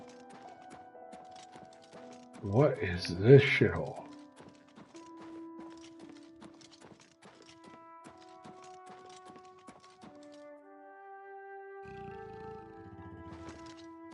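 Horse hooves clip-clop faintly in the Oblivion Remastered video game, softly and fairly steadily. A loud growling burst and a short spoken line break in early on.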